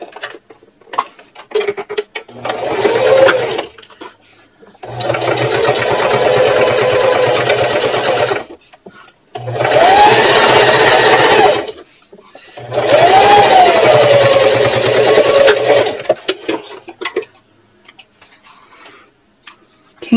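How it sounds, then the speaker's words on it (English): A sewing machine stitches a quarter inch seam on a purse in four separate runs of steady, rapid whirring, each a few seconds long, with brief pauses and light handling clicks between. "now I'm going to sew with a 1/4 inch seam allowance."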